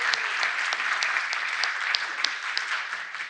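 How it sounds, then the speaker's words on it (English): Steady audience applause at a programming conference talk, honoring the speaker's mother seated in the front row: a dense patter of many hands clapping, with a few sharper individual claps standing out. "So let's give her a round of applause."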